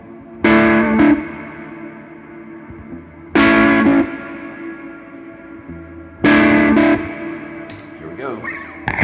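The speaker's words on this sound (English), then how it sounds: "I'm going to crank my reverb big time up." A Squier J Mascis Jazzmaster electric guitar through heavy reverb rings out in three loud strummed chords, each blooming into a long washy tail that fades under soft background noise before the next hit.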